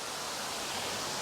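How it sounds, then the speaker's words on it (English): Ozone Falls pours down in a steady, full roar of rushing water, heard up close from just behind the falling water with no other sounds. "it's cool being right here behind this waterfall"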